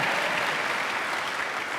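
A church congregation gives applause during an online worship service, a continuous, even roar of many hands clapping at moderate loudness for the whole moment.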